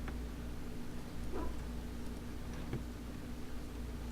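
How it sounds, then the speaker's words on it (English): A dog in Dragon Age: Origins, set in the city of Denerim, gives a few faint, brief barks spaced apart over a low, constant in-game hum. "I hear a dog barking."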